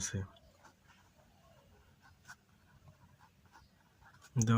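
Pen writing on paper during a trigonometry lesson: faint scratchy strokes in short irregular bursts, with a louder voice speaking briefly at the start and end.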